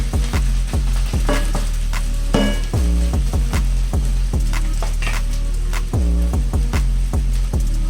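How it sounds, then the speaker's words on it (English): Onions sautéing in a pot for broccoli cheddar soup, a loud close sizzle punctuated by frequent ringing clanks of a spoon against the pot as they are stirred. "next we're going to add our onions. Saute them for a few moments until they become translucent."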